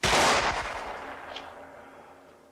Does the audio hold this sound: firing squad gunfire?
yes